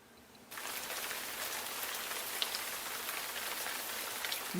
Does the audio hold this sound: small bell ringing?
no